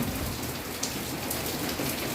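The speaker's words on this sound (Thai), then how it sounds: "ตกอีกแล้วได้ฝนตกอีกแล้ว" Heavy rain pours steadily, a dense, continuous hiss of drops drumming on surfaces, loud and close with no voices.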